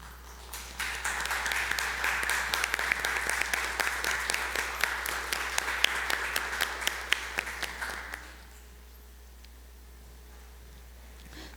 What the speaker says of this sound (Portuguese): Peço a todos uma salva de palmas ao Pavilhão Nacional.